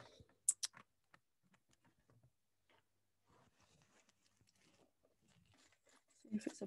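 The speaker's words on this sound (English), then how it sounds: "I'm just going to have to type today." Typing on a computer keyboard produces sparse, faint keystroke clicks in a quiet room, with a few sharper taps near the start and a small flurry at the end.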